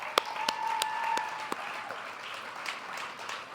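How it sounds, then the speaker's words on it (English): Audience applause at a startup accelerator demo day, a few sharp claps standing out over a steady wash of clapping from the crowd, moderately loud and tapering off. "I just want to give a round of applause for all the companies that just went before us"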